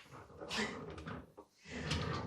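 Cupboard or drawer in a rented holiday apartment in Portimão, Portugal, opening with a short wooden scrape and knock, then a second slide a moment later, close by in a quiet room.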